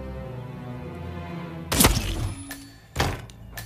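Two sharp, close sniper rifle shots ring out in Hitman 3, each a sudden loud crack followed by a short decaying tail, over a low ambient hum.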